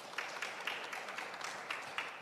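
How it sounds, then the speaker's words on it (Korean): Faint applause from an audience at a maritime forum session welcomes a professor, a steady, distant patter of many hands with soft rhythmic peaks. "박수 부탁드리겠습니다."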